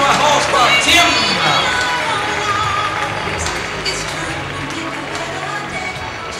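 An audience at an international show-jumping competition cheers and applauds loudly, with whoops and crowd roar that gradually settle into a lower murmur, while a voice speaks over it.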